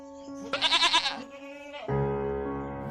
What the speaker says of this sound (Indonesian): Ada kambing ngunyah rumput di halaman villa.